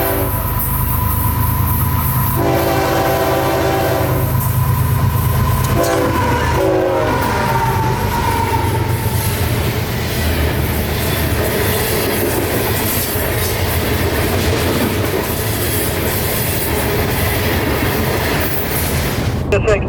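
A coal train hauled by a locomotive rushes past close by, its horn blaring in loud blasts at the start, followed by a sustained roar of wagons and rolling wheels; faint voices are heard.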